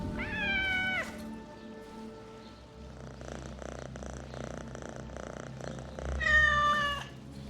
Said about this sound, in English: Obviously, the cat is here to help me.